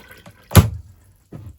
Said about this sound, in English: you fill up that little canister of water there with the tap on as well